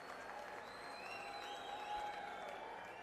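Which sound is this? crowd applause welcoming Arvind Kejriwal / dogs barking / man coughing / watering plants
crowd applause welcoming Arvind Kejriwal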